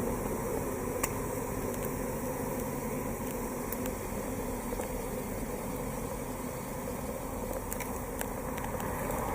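A swarm of honey bees buzzes and fans in a dense, continuous drone close by, holding steady at a constant level for the whole stretch.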